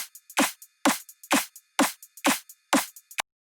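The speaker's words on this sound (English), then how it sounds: "I'm going to play the snares." Snare hits in a repeating snare build pattern in Ableton, loud accented strikes with softer ghost notes between, dry and close, ending abruptly.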